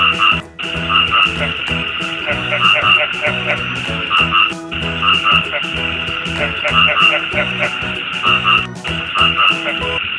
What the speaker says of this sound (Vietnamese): Con ếch.